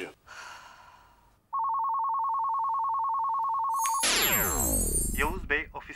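A telephone rings with a steady electronic tone held for a few seconds, loud and close, followed by a sweeping burst of sound and brief voices.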